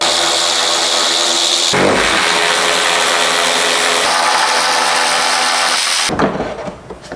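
A power tool tightens headlight housing bolts on a Nissan Xterra, a loud continuous whirring drone close by that stops abruptly near the end, with no talk.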